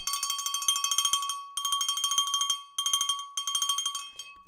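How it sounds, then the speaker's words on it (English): A small bell rung rapidly in four bursts of bright metallic tinging, close and clear, with brief gaps between each burst. "Let's ring the bell for Steve."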